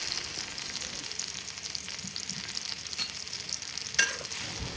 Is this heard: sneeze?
no